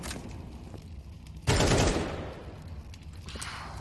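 Gunfire in a Counter-Strike esports grand final match, heard as a sudden loud shot burst partway through that trails off over quieter in-game ambience.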